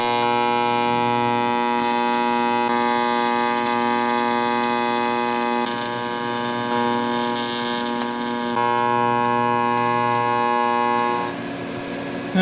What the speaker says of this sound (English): let's weld this thing up